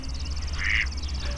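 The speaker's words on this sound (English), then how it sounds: "We got ducks on the pond." A duck on a spring pond gives a short, fairly close quack over steady background hum and chirping birds.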